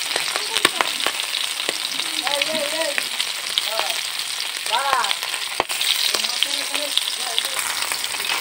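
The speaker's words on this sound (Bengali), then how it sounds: "মাছগুলো কড়াতে দিয়ে দিচ্ছি, এবার মাছগুলো আমি ভেজে নেবো।" Magur catfish fry noisily in oil in a kadai, a dense crackling sizzle with scattered sharp pops, and occasional light utensil clinks.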